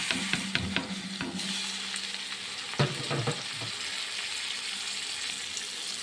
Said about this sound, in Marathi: आता जिरं, मोहरी आणि लसण टाकल्यानंतर कांदाही कलसायला टाकायचा आहे.